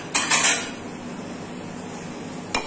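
A plate being taken out among other dishes in a home kitchen while healthy vegan sweets are prepared: a brief burst of ceramic clattering at the start, then quiet room tone and one more sharp clink near the end.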